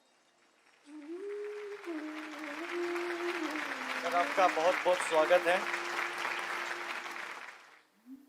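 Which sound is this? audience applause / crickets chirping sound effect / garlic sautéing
audience applause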